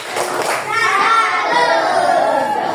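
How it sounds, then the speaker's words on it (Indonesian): A classroom of children performs the rhythmic 'tepuk salut' clapping chant during a lesson, their voices and hand claps blending together close by and fairly loud. "Oke, tepuk salut."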